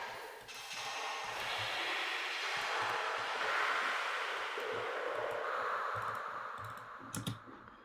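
An ambience processed through stacked, duplicated transient shapers, then a gate and reverb, forms a soft, airy, swelling wash of noise that rises and fades over several seconds. It closes with a few sharp clicks, is fairly quiet, and has no voices.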